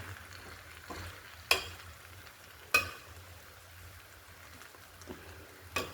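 Egg biryani being mixed in a pot: a quiet, soft scraping and stirring with a few sharp clinks of the spoon against the pot, alone with no talk.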